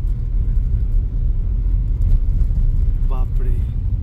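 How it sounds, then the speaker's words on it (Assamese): Vehicles move along a mountain road between Srinagar and Kargil in Ladakh, a continuous deep engine rumble filling the clip, with a brief voice near the end. "এইবিলাক গাড়ী অহা যোৱা কৰি আছে।"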